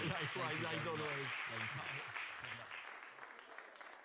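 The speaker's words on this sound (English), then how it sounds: "Round of applause for Bertrand Piccard" An audience applauds Bertrand Piccard at a Davos event, the clapping swelling under a host's voice and then thinning out gradually.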